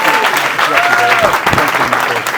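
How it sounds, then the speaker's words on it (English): A live audience at a comedy-style show breaks into a loud, dense round of applause, steady throughout with cheers and voices mixed in. "Actually, a real round of applause"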